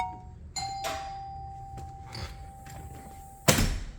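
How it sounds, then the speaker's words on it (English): A house doorbell is pressed and rings a clear electronic chime that lingers for a few seconds, with a click at the start and a sharp thump or handling knock near the end. "So when I press the doorbell,"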